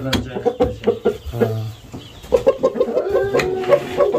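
An expensive-breed rooster clucks in a quick series of short, close, fairly loud calls, pausing briefly before another burst of clucks, with no talking over it.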